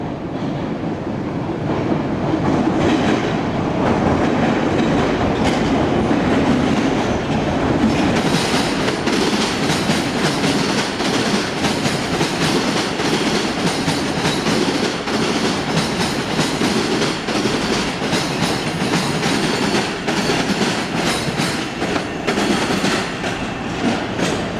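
MBTA Orange Line subway train passing Forest Hills station at rush hour, a loud, sustained rumble with rhythmic wheel clatter and a faint squeal, close by and without talk.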